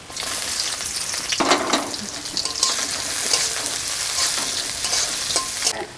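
Onion sizzles steadily in hot oil as it is stirred, with scraping stir strokes standing out over a continuous close frying hiss.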